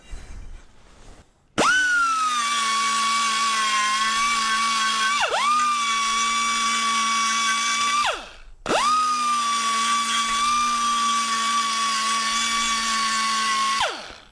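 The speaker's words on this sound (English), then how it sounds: "I'm going to just get it with a little die grinder action with a pad on it and smooth this out." A die grinder fitted with an abrasive sponge pad smooths the metal surface of a 2002 Polaris Sportsman valve cover, a loud steady high-pitched whine in two long runs with a brief dip and pause between them.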